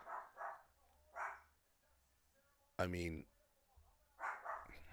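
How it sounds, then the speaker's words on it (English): A small dog gives one sharp, fairly close bark between stretches of someone talking quietly indoors. "little dogs never shut the fuck up"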